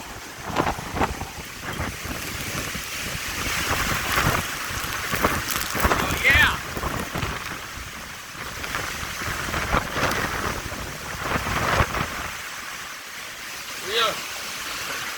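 Hurricane Ida batters a street in Houma, Louisiana, with gusty roaring wind and driving rain that buffet the microphone in uneven surges, close and sustained, easing briefly near the end.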